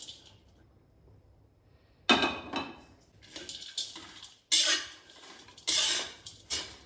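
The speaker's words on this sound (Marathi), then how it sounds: "त्यात हे जे ड्रायफ्रूट आहेत ते यात टाकून देणार आहे" A spoon clatters against a pan while dry fruits are stirred in a spoonful of homemade ghee on the stove, giving several sharp metallic scrapes and clinks in bursts separated by short pauses.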